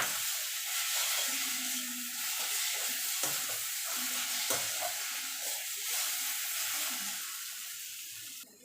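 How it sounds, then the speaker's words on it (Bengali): Fried yardlong beans with dried chilli and onion get stirred in a pan, a soft low sizzle with faint scraping and clinks, fairly quiet and fading toward the end. "এবার ভালো করে মিশিয়ে নেব।"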